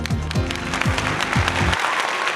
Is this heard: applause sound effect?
yes